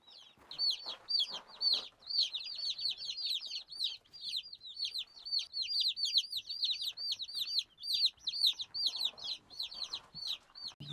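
A group of young chicks peeping nearby, with rapid, overlapping high-pitched peeps that keep going with no break.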